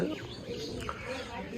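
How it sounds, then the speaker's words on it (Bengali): Birds call and chirp in short, bright notes on a winter morning outdoors near a café in Keraniganj, Bangladesh. A voice talks over them throughout. "শীতের সকাল পাখির ডাক"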